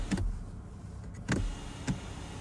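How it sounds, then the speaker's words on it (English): Sunshade motor of a 2023 BMW 740i glass roof moving, heard as brief whirring bursts with soft clicks, close inside the cabin, spaced out over a couple of seconds. "So I'm used to the sunshade going back towards the back of the vehicle"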